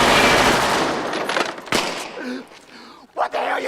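Gunfire from a film scene: a dense burst of rapid shots at the start, then a few sharp isolated cracks, mixed with shouting voices.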